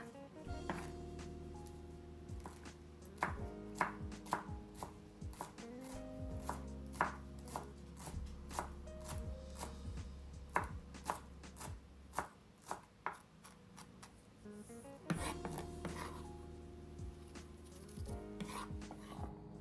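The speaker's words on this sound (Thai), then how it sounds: "จากนั้นเราก็จะมาหั่นผักชีกันค่ะ" Steady knife chopping through coriander on a board, quick repeated taps in bursts with brief pauses, close and fairly loud, no talking.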